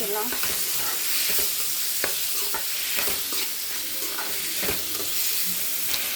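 Ginger garlic paste and spices sauté in a pan for an egg thokku, the food sizzling steadily while a spoon scrapes and clacks against the metal in quick irregular strokes.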